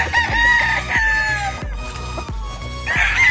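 A gamecock rooster crows loudly in a backyard farm, with repeated close calls over a busy din of clucking and other fowl.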